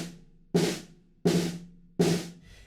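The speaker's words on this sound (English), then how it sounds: "I would just use one hand and just push in a little bit harder on the snare drum, just so you get that nice buzz sound." Three one-handed buzz strokes on a snare drum, each pressed into the head for a short rolled rasp that decays, evenly spaced and close, with a faint fourth tail at the end.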